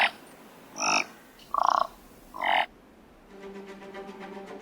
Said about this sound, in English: Perfect conditions for the aerial games of the thick-billed raven.